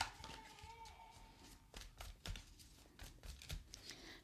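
Tarot cards are shuffled close up in quiet surroundings, a run of crisp riffling bursts and soft card slaps in an uneven rhythm.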